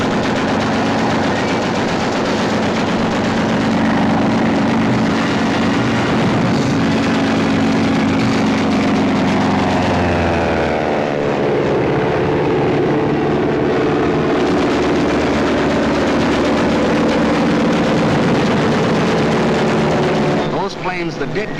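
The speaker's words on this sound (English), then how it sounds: "the planes of the Luftwaffe were over Poland, wiping out the Polish Air Force" Luftwaffe warplanes over Poland in a 1943 wartime documentary: a loud, continuous drone of aircraft engines mixed with bursts of machine-gun fire and explosions, with a narrator's voice speaking over it throughout.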